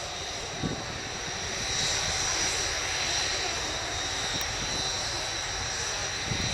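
A steady, droning Apache attack helicopter engine hums continuously at a distance during an RAF air show display, holding a fairly even level throughout with no voices.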